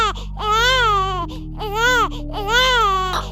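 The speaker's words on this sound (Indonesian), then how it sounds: "Lalu terdengar suara sesuatu keluar dari tubuh Mbak Uli dan disusul tangisan bayi." A newborn baby cries in three long, wailing bursts with short breaths between, loud and close, used as a horror story sound effect.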